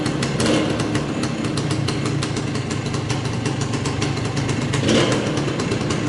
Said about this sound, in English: the bike runs like a Rolex watch